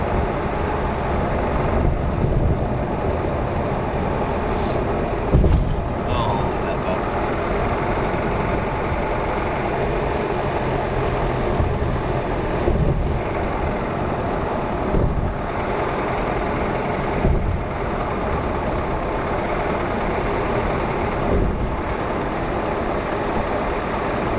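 A car engine runs hard and steadily at 5,000 to 6,000 RPM for a long stretch while driving, a loud continuous drone with only slight swells and no voices.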